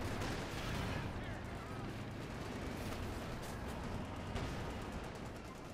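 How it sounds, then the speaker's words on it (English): Two Sherman tanks fire in a Company of Heroes 2 battle, dense booming gunfire and explosions rolling continuously under a din of combat noise, loud and crowded with overlapping shots. "both Shermans firing"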